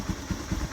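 A motorcycle engine starts and runs, giving a steady low rhythmic thumping with light mechanical clatter, close by and with no talking.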